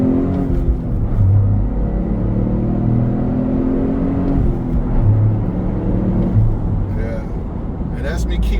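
A Toyota GR Corolla with all-wheel drive accelerates hard, its engine droning low and rising in steady pitch from inside the cabin, with a constant road rumble underneath and voices talking over it.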